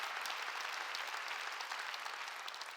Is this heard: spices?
no